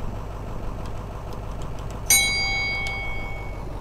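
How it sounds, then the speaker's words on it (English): A bright two-tone ding-dong chime rings out once over a steady idling bus engine rumble in a night bus driving video game, the tones lingering and fading slowly. "What's a ding dong ding dong? What was that? Bus stopping."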